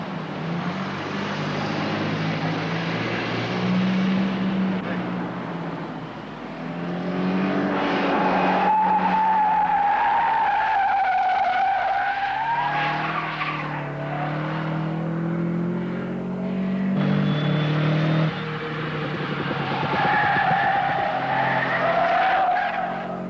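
A Porsche 924 driven hard squeals its tires in long, wavering skids over a steady engine roar, loud and continuous with pitch sliding up and down as the car turns.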